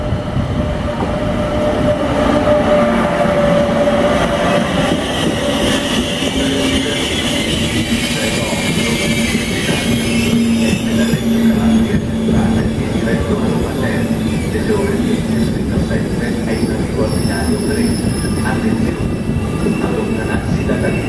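An Intercity train pulls into an Italian station with a loud, steady rumble of wheels on rails and squealing brakes, a platform announcement heard over the noise.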